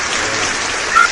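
Studio audience applause, a steady dense wash of clapping heard close and fairly loud throughout.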